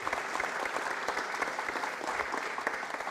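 A crowd claps continuously at a city council meeting in Fresno, a dense, even burst of applause heard at a moderate distance.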